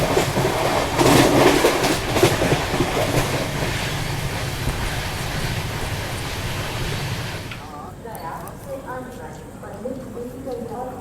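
Mahabodhi Express running at 130 km/h on the Grand Chord line, a loud steady rumble and rush of the moving train with rail clatter throughout, easing slightly toward the end.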